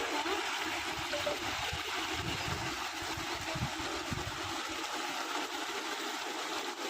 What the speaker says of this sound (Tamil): நான் கறி கழுவ போறேன். பிரியாணிக்கு தான் கறி கழுவ.